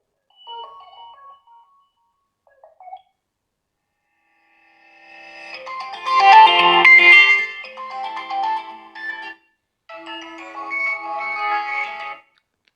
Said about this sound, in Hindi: यहाँ से आ जाते हैं हम फ़ोन रिंगटोन में